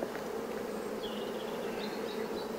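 Honeybee foragers buzz steadily around an open hive frame as they return with fresh pollen. The hum is dense and continuous at moderate loudness, with individual bees drifting past, and no voices are heard.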